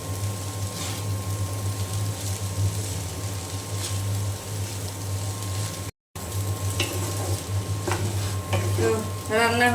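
Chicken noodles stirred in a frying pan, steady scraping and stirring over a continuous sizzle, close and fairly loud, with a brief dropout midway and sharper clinks near the end.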